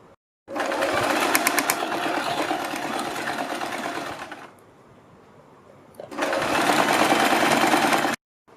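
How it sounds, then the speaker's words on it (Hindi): A sewing machine runs in two steady bursts, stitching along the folded edge of a kurti neck strip; it pauses briefly between runs, loud and close, with no talk. "इसके किनारे पर एक सिलाई लगा देते हैं"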